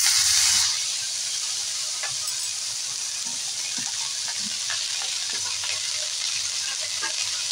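Grated bottle gourd sizzles steadily in hot ghee with a bay leaf, with soft scraping and stirring taps breaking through the continuous frying hiss.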